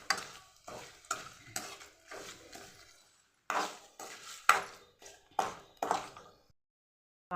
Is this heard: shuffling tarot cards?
no